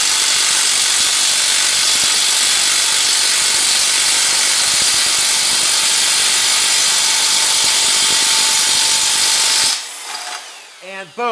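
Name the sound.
impact wrench loosening a seized bottom bracket cup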